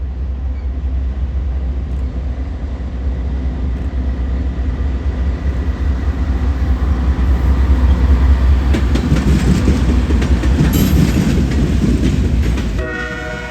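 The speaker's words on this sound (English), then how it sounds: "This is what I believe to be a loaded ethanol train" A loaded CSX ethanol freight train passes a railpark in Fostoria, Ohio, with a loud, close, steady rumble and clatter of wagons over the rails that swells midway, and a horn blast near the end.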